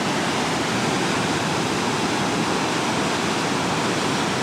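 Water rushes out of a cave at the Rogue River natural bridge, a loud, dense, steady roar of churning flow, close and unbroken.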